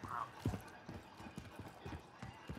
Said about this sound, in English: Your footsteps loud as shit.